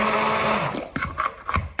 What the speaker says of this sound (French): je vais prendre le fameux mixeur et je vais éclater les derniers morceaux